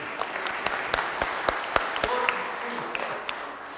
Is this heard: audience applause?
yes